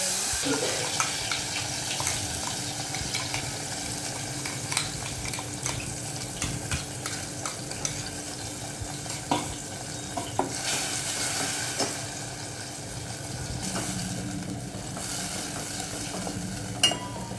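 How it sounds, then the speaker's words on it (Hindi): Masala paste being stirred and sautéed in hot cooking oil, a soft continuous sizzle with scraping and clinking of a spoon against the pan, fairly quiet and steady throughout. "ये मसाले को मैं ऑयल के साथ अच्छी तरह से मिक्स करती हूँ।"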